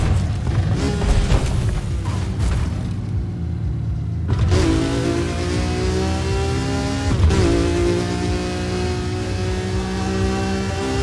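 Car racing in the video game Paradise Remastered, a loud sustained engine roar that climbs in pitch through gear changes, with a sharp impact or gear shift midway, continuous and close with no talk.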